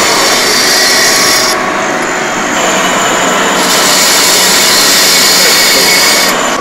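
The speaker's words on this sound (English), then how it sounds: "More in the class, first year, working on a grinder, grinding down it manually." A grinder works metal by hand in a first-year workshop class, giving a loud, steady, rough grinding and rasping roar that runs without a break for the whole stretch.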